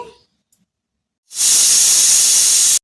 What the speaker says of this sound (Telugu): ఇప్పుడు కుక్కర్ మూత పెట్టుకుని 4 విజిల్స్ వేయించుకోవాలి